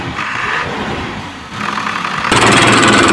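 Isuzu Elf truck engine cranking and catching, then settling into a steady diesel idle that grows louder and rougher toward the end, close up with no talking.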